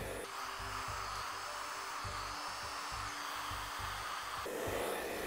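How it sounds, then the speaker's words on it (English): A hair dryer whirs steadily up close, a constant high airy drone with a low pulsing hum, running alone without speech. "direct the heat from the blow dryer at the base"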